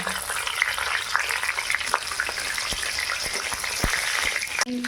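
Panch phoron, bay leaves and dry red chillies frying in hot oil, a loud, continuous crackling sizzle with dense popping spatters close up, running steadily throughout without speech.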